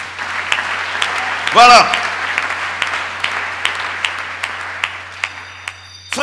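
Church congregation applauding the Lord, a dense, steady wash of clapping throughout with a single loud voice speaking briefly near the middle and a few sharper individual claps standing out.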